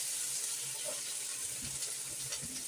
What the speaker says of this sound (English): Now I'm putting my seafood in here. Oh yeah, sizzle, sizzle.